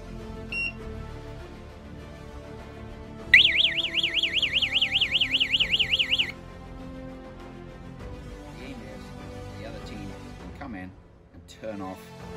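Homemade low-cost DIY airsoft countdown timer bomb sounds its siren: a loud, rapid warbling electronic wail rising and falling about ten times over three seconds, over a steady background hum.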